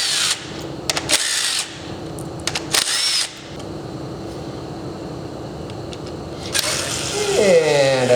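A power tool zips bolts out in several loud whirring bursts with short pauses between them. A longer spin-down follows near the end.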